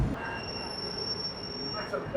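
Wheels of a Hong Kong double-decker tram squeal against the rails during a ride, a steady high-pitched whine held over continuous rumbling rail noise.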